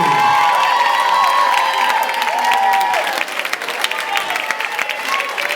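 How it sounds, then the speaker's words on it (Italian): Audience applause at a salsa school's advanced student show, loud clapping mixed with cheers and whoops from an excited crowd, tapering into scattered claps by the end. "Applausi ragazzi, bravi!"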